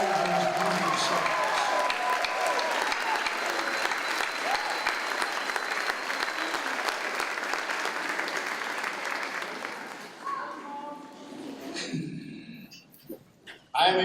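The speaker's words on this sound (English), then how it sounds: "Graduates, please join me in giving a rousing round of applause" A graduation audience at the Flashpoint Chicago Class of 2018 ceremony breaks into sustained, loud applause that runs for about ten seconds, then thins into scattered clapping and a few voices before a final burst.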